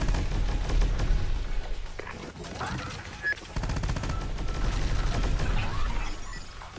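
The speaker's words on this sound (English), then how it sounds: "He's gonna shoot." Bursts of gunfire from a gun in the video game Terminator: Dark Fate - Defiance, loud and repeated over a dense battle din, with a short gap midway before the shooting resumes.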